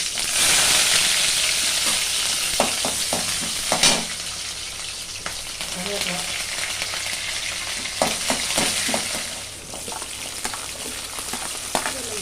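Fenugreek seeds and mustard seeds crackling in hot oil as garlic goes in for vatha kuzhambu: a continuous sizzle broken by sharp pops and spoon taps against the pan, fading slightly near the end.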